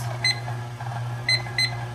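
A kitchen timer is set while dough kneads in a stand mixer with a dough hook, giving three short high beeps spaced apart over a steady low motor hum, with no talking.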